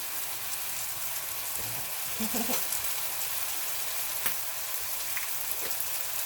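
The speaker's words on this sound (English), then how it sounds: "Let me give it another good mix." A spoon moves through chicken stew in a hot pan for a Nicaraguan orange chicken dish, giving a steady, close frying hiss with scattered scrapes and a couple of clearer knocks, and no speech.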